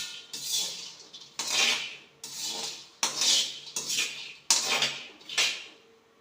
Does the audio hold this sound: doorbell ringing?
no